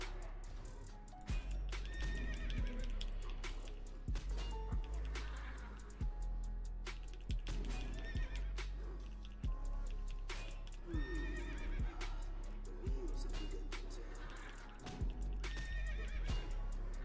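A horse in a video game whinnies repeatedly while its hooves clop in uneven bursts, the sounds close and distinct, with a low steady hum underneath.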